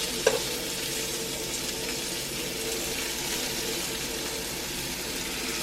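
Chicken pieces frying in a cast iron pan and being scooped and shifted around, giving a steady, moderate sizzle with a faint clink near the start.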